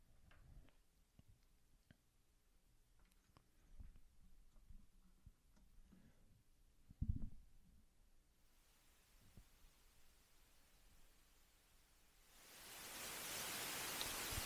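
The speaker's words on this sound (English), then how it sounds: "In the middle, we have a noise generator, white noise, pink noise, and the sample and hold output" A synthesizer's noise generator puts out white and pink noise: faint ticks and rustles come first, then a soft hiss rises and swells into a loud, steady broadband rush at the end.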